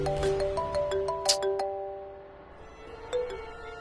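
A phone ringtone chimes nearby in a quick run of bright, bell-like notes, clear at first and then fading, with one last ding near the end.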